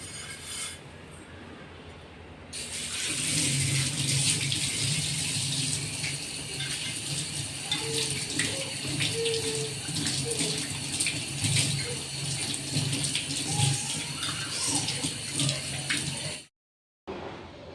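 Water runs steadily from a tap while rinsing a cleaned griddle pan, with a continuous hissing splash, close and fairly loud, then cuts off abruptly near the end.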